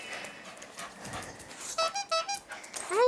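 A small pet dog on its walk gives excited high squeaks and short yelps amid rustling and shuffling, growing louder toward the end.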